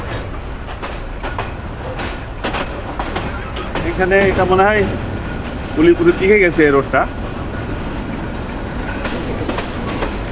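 The slow Ramna Bazar local train rattles along with steady wheel clatter and two wavering horn blasts, while someone talks throughout.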